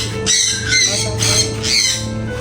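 An eclectus parrot gives four loud, raspy squawks in quick succession, close by, over a low background hum.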